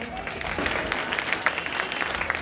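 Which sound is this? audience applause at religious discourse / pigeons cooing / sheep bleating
audience applause at religious discourse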